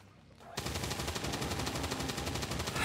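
Rapid automatic gunfire from the XCOM 2 video game bursts in after a brief quiet start, a dense, steady rattle of shots that continues loudly to the end.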